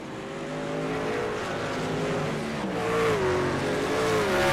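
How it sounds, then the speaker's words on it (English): Racing trucks in the iRacing video game drone steadily at high pitch, with whining tones rising and falling as they push through turn 9, no voices. "you can hear a little sound action from the trucks through turn 9"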